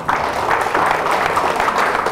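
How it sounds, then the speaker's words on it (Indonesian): An audience at a teaching session on public speaking claps together, a dense, steady patter of many hands lasting a couple of seconds at moderate loudness. "Tepuk tangan"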